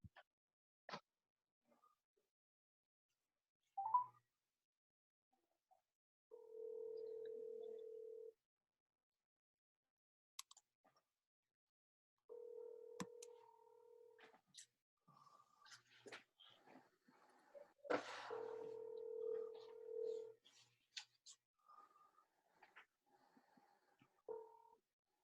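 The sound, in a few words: telephone dial tone and number dialing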